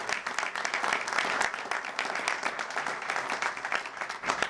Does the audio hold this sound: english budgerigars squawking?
no